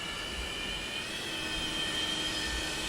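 Simulated jet engine of a Boeing 737-200 in a flight simulator, steady loud whine and roar with a sustained high-pitched tone over a broad rumbling hiss, no talking.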